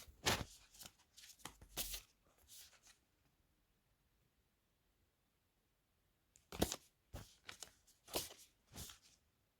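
Black oracle and tarot cards handled in two bursts of quick papery slides, flicks and shuffles, close and fairly quiet, with a silent gap between them.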